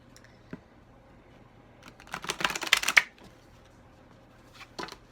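Tarot cards shuffled by hand in a quiet room: a dense burst of crisp riffling papery flicks lasting about a second, framed by a few isolated soft taps and snaps, with no talking.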